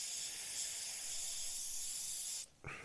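An airbrush sprays isopropyl alcohol cleaner in a loud, steady high hiss that cuts off sharply near the end and is followed by a short softer puff.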